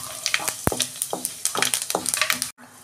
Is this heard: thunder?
no